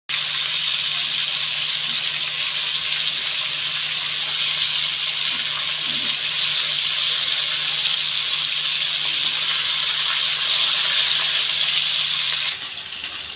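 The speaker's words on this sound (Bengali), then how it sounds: "তেল গরম হয়ে গেছে। তো একে একে সমস্ত এরকম মাছ আমি ভেজে নেব।" Fish frying one by one in hot oil, a loud continuous sizzle and crackle held steady and close for the whole stretch, then easing off just at the end.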